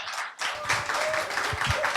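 A burst of applause from a church congregation welcoming a pastor, steady clapping filling the room for a couple of seconds.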